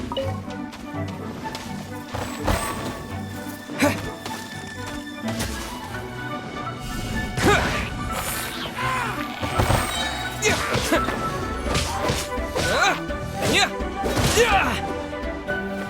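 Heavy ground-slam impacts from Zhongli's Terra Smash attack in the video game Genshin Impact, with several loud crashing thuds rising out of a dense mix of game music and effects.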